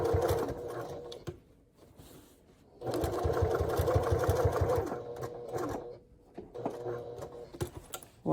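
A sewing machine stitches a heart-shaped pouch at a 3.5 stitch length, running in short bursts with brief stops.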